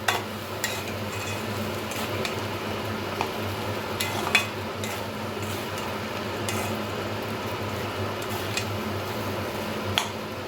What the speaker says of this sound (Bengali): মশলাগুলো চালের গায়ে খুব ভালোভাবে মিশিয়ে নিতে হবে